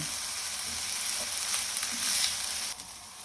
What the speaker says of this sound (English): add in your red pepper or red capsicum into the pan and give it a stir